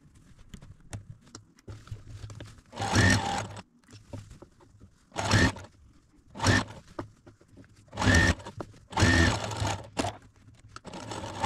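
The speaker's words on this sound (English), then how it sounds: "I'm going to take it over to the machine. I'm going to first stitch down this side" A sewing machine stitches a laundry bag in several separate bursts of fast, steady whirring, fairly close, with quiet pauses between runs.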